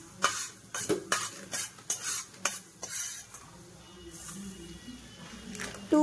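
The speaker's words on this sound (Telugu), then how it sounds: "1 స్పూన్ ఆవాలు ఫ్రై చేసుకోండి కొద్దిగా" Mustard seeds fry in a pan for a prawn pickle while a spoon stirs them, giving a string of sharp metallic scrapes and clinks over a soft, low sizzle that settles toward the end.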